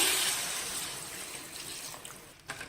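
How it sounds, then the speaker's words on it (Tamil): Water from a pot is poured into a crab pepper gravy cooking in a pan, a soft continuous splashing pour that fades out, ending with a faint clink. "இப்போ ஒரு சொம்பு தண்ணி விட்டாச்சு"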